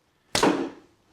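An arrow is loosed from a bowstring using a custom-made thumb ring, heard as one sharp, close snap and whoosh that decays over about half a second, with no talk.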